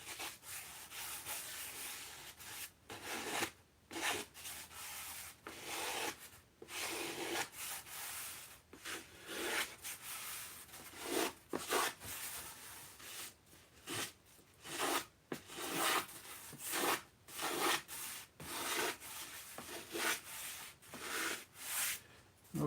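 A sanding bar is worked back and forth over a foam model aircraft wing, giving repeated soft rasping strokes in an uneven rhythm with short pauses between passes, close up and fairly quiet, with no talking.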